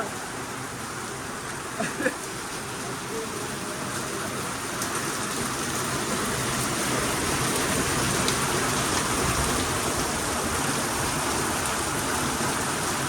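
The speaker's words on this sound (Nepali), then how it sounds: "पानी यस्तो पऱ्यो" Heavy rain pours down in a steady, dense hiss that holds for the whole stretch and grows slightly stronger toward the end, with no voices.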